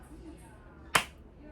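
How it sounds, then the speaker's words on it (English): One sharp, bright hand clap cracks out once, close and sudden, standing alone against a quiet background. "And with one clap"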